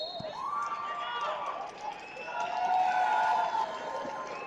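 Spectators at a cadet wrestling gold medal match roar and shout in a dense, rising crowd noise, with excited voices and whistling-like cries swelling toward the end.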